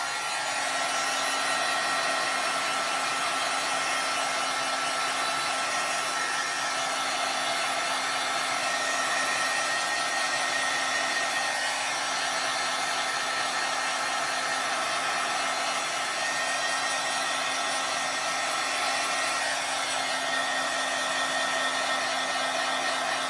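A hair dryer blowing steadily close by to dry wet alcohol ink on a stamped card, a continuous even whir with a constant hum that runs alone for the whole stretch.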